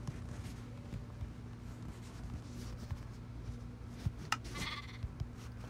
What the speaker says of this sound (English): I swear I heard a sheep.